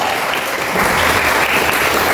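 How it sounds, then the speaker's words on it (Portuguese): A church congregation claps during a sermon, a brief burst of dense, loud applause that swells slightly after the first moment. "E as palmas glorificam a Deus."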